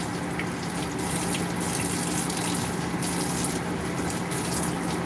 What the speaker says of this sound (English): I am going to fill the freshwater tank about a third of the way.